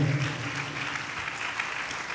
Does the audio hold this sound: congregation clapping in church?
yes